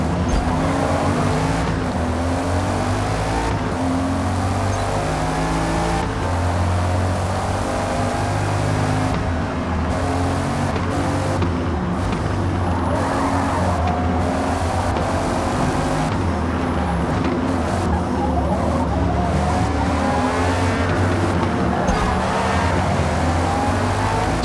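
Race car engines roar in the Forza Motorsport racing game, with exotic cars including an older-generation Bugatti on track. A continuous, loud engine drone rises and falls as the cars rev and shift, with no speech.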